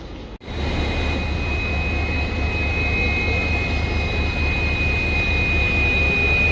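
An Indian Railways locomotive rolls into platform 4 at a station, giving a loud, steady engine drone with a thin high whine that holds evenly and builds slightly, after a brief sharp dip at the start.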